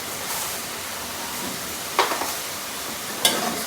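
Ground coriander, chilli and cumin roasting in a pan, a soft even sizzle with two brief spoon scrapes against the pan, quiet and close with no talking.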